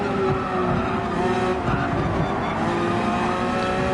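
A race car in Gran Turismo 7 slides out at Interlagos, its engine droning steadily as the tires scrub and squeal through a few seconds of continuous, loud in-game car noise.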